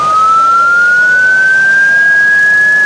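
An emergency vehicle siren holds one loud, steady rising wail in traffic, sounding alone with no voices over it.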